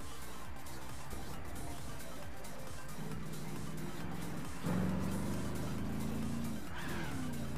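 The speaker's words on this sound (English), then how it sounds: "That Borla exhaust, though." A car fitted with a Borla exhaust is driven in Gran Turismo 6: a steady engine drone that climbs in pitch, drops at a gear change, then revs up again with a brief tire squeal. No one speaks.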